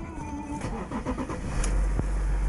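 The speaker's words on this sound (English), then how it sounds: "start the engine." An Audi A4 Avant S Line Quattro engine cranks and catches, its rumble rising and settling into a steady idle heard from inside the car, loud and continuous with a sharp click near the start.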